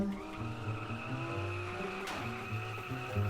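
Car engine in the video game Car For Sale revving with squealing tires as the car drifts, a sustained tonal roar with a sharp crash-like burst midway.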